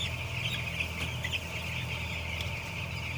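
A flock of farm-raised chickens clucks continuously inside a poultry house that also holds nine-day-old chicks, with a dense, even chatter and a few sharper calls standing out.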